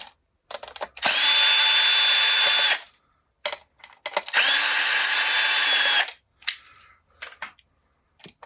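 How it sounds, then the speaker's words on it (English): A power screwdriver with a Phillips bit drives screws out of an arcade coin slot in two loud, sustained whirring bursts of about two seconds each. Short clicks and handling knocks come between them, close up with no talk. "So let's take our screwdriver again with a standard Phillips head. And we'll remove all 4 of these."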